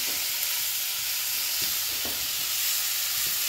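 Tomatoes and soy chunks sizzle in a hot frying pan for Sri Lankan-style devilled chicken, a steady close frying hiss with a few soft stirring scrapes.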